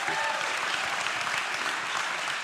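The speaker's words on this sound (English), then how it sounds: "Can we please give this man a clap?" An audience at a talk on mindset and navigating life challenges breaks into applause, a dense, steady wash of clapping sustained without pause, fairly loud and filling the room.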